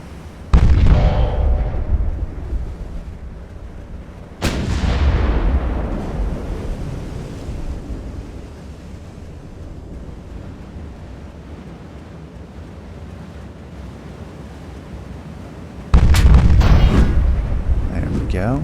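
Heavy naval guns of a dreadnought-era warship boom in a simulated sea battle, with three loud deep blasts at the start, just before five seconds and near the end, each rolling off into a long rumble.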